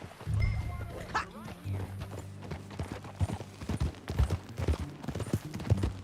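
Steady clip-clop of horse hooves in Red Dead Redemption 2, close and rhythmic, with a low droning music bed and occasional voices underneath.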